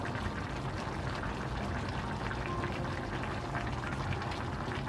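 Salted water with zucchini boiling in a pot on the stove, a steady close bubbling and hissing roil with no speech.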